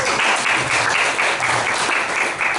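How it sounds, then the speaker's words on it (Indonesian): A church congregation applauds during an Indonesian Christian sermon, a dense, sustained burst of clapping from many hands filling the room for a couple of seconds. "Nggak ada tepuk tangan buat Tuhan Yesus."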